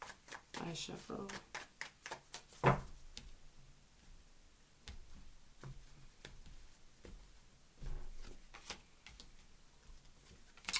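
Tarot cards shuffled in quick, crisp riffling bursts, a dense patter early on that thins into scattered flicks and taps, fairly close but soft, with no talking.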